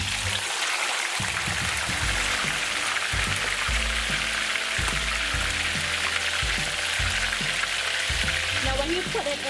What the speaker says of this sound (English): we're going to fry our pork pieces